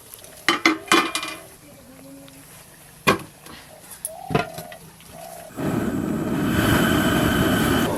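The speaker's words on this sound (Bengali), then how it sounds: "এই তাওয়ার ওপরে হাঁড়িটা বসিয়ে বিরিয়ানিটা দম দিয়ে দেব।" A metal pot clatters and knocks as it is set onto a flat griddle for dum-cooking chicken biryani, a few sharp clanks and scrapes followed by a steady hiss of flame and cooking underneath.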